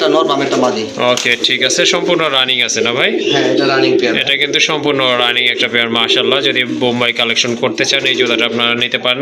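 Large red gear pigeons coo in low, rolling, throaty calls that overlap and continue steadily at close range, beneath loud talk from people nearby.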